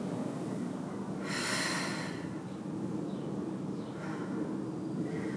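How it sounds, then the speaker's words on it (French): Breathing during a Pilates exercise: one strong, close, airy exhale burst early on, then fainter breaths over a low steady background, with no speech. "Sentez votre respiration."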